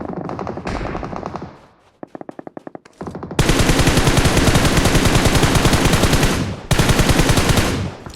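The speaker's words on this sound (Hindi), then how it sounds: "सामने फायर आया।" Video game gunfire in a solo battle-royale fight: a short run of single shots, then long sustained loud automatic bursts, close and dominant, broken by a brief pause.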